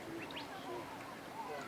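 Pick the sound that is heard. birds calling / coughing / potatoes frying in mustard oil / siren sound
birds calling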